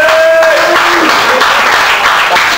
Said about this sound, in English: just quick round of applause if you do